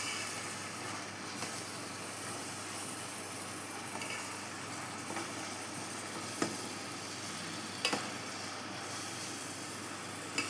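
Tomatoes, onion, ginger and garlic fry in oil for tomato chutney, giving a soft, steady sizzling hiss broken by a few faint clicks, likely from stirring, with no talk.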